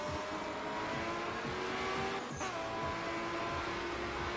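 Cars racing in the video game Night Runners, played with a wheel: a steady engine drone with rising revs and a brief tire squeal near the middle, loud and continuous, with no talking.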